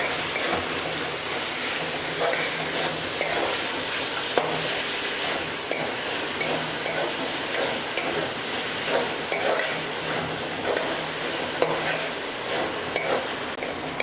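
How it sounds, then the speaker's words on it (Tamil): Mint leaves sautéing in a pan for paruppu urundai kuzhambu, a steady frying sizzle with repeated rhythmic scrapes and taps of a spoon stirring, close and continuous, with no voices. "இப்போ இந்த புதினாவை வந்து இது கூட நல்லா சேர்ந்து வதக்கிக்கலாம்."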